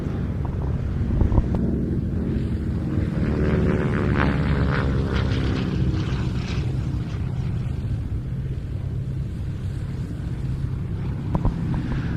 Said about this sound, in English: it was the North American T-6 or AT-6 Texan that held sway, named as here Harvard by the British and Commonwealth forces